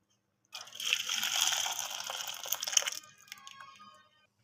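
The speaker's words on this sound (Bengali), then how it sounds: "দুধটা ফুটে দেখুন অনেকটা ঘন হয়ে গেছে। এবার আমি একটা পাত্রে ঢেলে নেব।" Thick, boiled milk poured from a pot into a bowl in a steady, gushing stream that fades to a trickle, close by with no talk.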